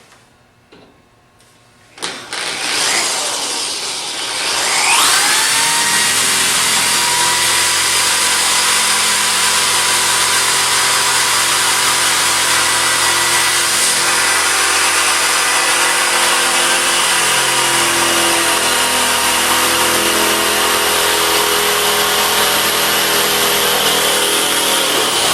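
A carbide drill bit bores through the hardened steel pins of a Medeco high-security lock with a loud, continuous high-pitched grinding whine after a short spin-up, close and sustained without talk.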